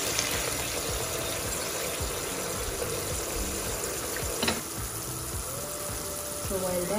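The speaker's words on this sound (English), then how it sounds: "So I'm adding in boiled water" Boiled water pours steadily into a cooking pot for tilapia fish soup, making a continuous close rushing gush with a brief clank partway through.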